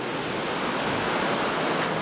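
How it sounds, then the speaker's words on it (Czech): Steady, hissing wash of Pacific surf breaking near the shore at Oxnard, California, a close, continuous roar with no voices. "Tady je hned oceán, Denny už to tady kontroluje."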